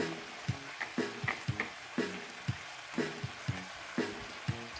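Fresh pancit noodles being stirred in a pan, giving a steady rhythm of scraping strokes over a soft sizzle, about two strokes a second, close and moderately quiet, with faint tonal background sound.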